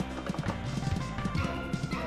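Horse hooves clip-clopping in the arcade game Sunset Riders, a quick regular trotting patter of hoof taps over background game music.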